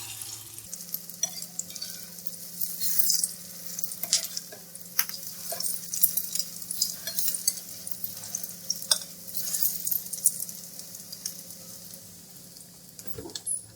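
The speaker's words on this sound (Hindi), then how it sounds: "आंच स्लो रखिएगा ताकि अच्छे से ये फ्राई हो जाए और क्रिस्पी हो जाए।" Beef resha kababs shallow-frying in a pan over low heat, a continuous crackling sizzle with scattered pops, close and steady, fading slightly near the end.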